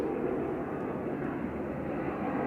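An airplane departing Manchester Airport for Inverness, a steady broad distant engine roar that stays even and unbroken throughout.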